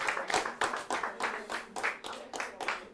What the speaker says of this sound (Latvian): Nu, vēlreiz aplausi visam